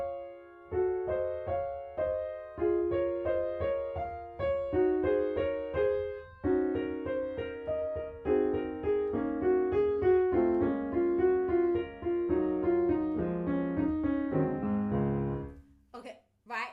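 Piano playing the notes of the first phrase of Debussy's Clair de Lune, a slow, steady succession of single notes and chords ringing close and clear without talk before cutting off at the end.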